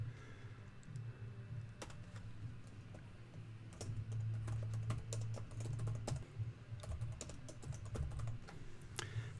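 Someone types on a computer keyboard, a soft, close clatter of irregular keystrokes over a low steady hum, continuous for about nine seconds with scattered louder taps.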